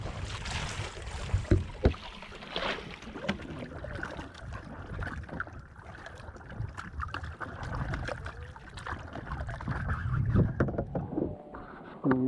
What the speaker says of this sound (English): I'm going to go to the right, so you got to put your oar backwards.